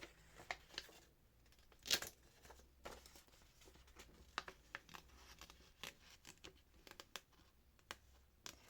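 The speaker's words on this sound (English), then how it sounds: "I'm just going to cut my circle out" Scissors cut a paper circle out of journal pages, faint close-up snips and paper rustles coming in irregular bursts against a quiet background.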